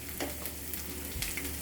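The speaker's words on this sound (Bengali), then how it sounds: "মশলাটা ভাজা হয়ে গেছে" Salt, turmeric and chili powder fry in a pan with spices for a pointed gourd and fish curry, giving a steady close sizzle with a few soft stirring scrapes.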